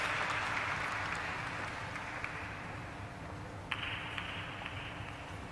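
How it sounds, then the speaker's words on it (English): An audience at a stock exchange listing ceremony for a steel tube company claps in a sustained, even round of applause, heard from a distance with no talking. "Let's welcome him once again on stage with a round of applause."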